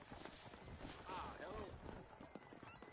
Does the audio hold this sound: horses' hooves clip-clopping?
yes